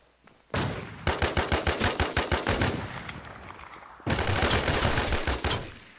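Gunfire in the survival shooter Infestation The New Z: loud rapid bursts of automatic rifle fire, a long stuttering volley, a short lull, then a second dense burst, no talk.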